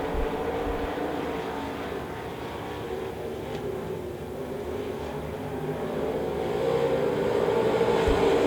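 Limited modified race cars roar along the front straightaway at Devil's Bowl Speedway during a heat race, a dense continuous engine drone that swells louder as the pack nears.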